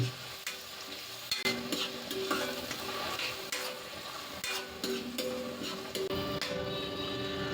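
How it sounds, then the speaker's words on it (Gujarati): Chopped onions sauté in a pan for kaju gathiya curry, a steady close sizzle broken by repeated spatula clicks and scrapes as they are stirred. "આ કાંદાને આપણે 2 મિનિટ માટે સાતળી લઈશું, એટલે કાંદાનો કલર થોડો ચેન્જ થઈ જાય."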